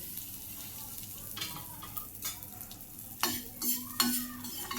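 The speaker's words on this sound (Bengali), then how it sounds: "এবার দিয়ে দিচ্ছি কিশমিশগুলো" Raisins drop into a pan of hot fat for payesh and fry with a soft sizzle, punctuated by a few sharper clinks and scrapes of a spoon stirring against the pan toward the end.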